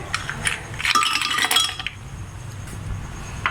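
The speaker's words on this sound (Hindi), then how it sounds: "फिर ये हम आइस क्यूब्स डालेंगे" Ice cubes are dropped into a juicer while mango juice is being made, producing a burst of bright clinks and clatters in the first half, then a few scattered knocks near the end.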